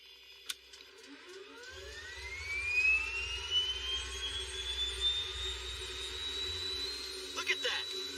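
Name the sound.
aircraft propeller engine starting up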